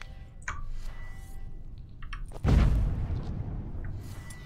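A bomb goes off in The Witcher 3: Wild Hearts of Stone, a single heavy low boom that swells up midway and rumbles away amid quieter in-game ambience.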